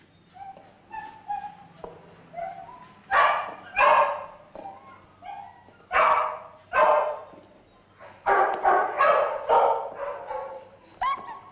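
A small dog barks and yips in bursts over about eleven seconds, the barks loud and close with short whimpering gaps between them, set in a 1975 lost-dog comedy in a big city.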